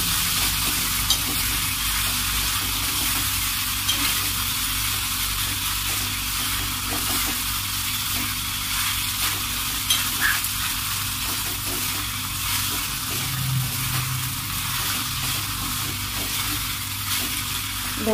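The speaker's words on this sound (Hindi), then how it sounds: "अच्छे से हिलाते रहेंगे ताकि मिर्च ना लग जाए हमारा तड़का।" A chili tempering sizzles and fries steadily in a pan for stuffed eggplant while a utensil stirs it now and then, a constant crackling hiss throughout.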